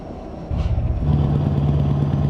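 Truck engine in Euro Truck Simulator 2 on a long northern drive through Sweden, a steady low diesel rumble with a throbbing drone that rises slightly and holds, loud and continuous without talk.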